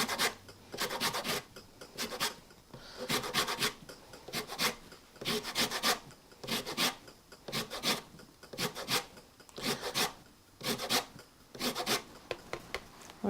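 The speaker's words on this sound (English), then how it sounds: "So I'm going to zest a lemon." A lemon is zested against a grater in a kitchen, making repeated rhythmic rasping strokes in short bursts, close and fairly quiet, with no talking.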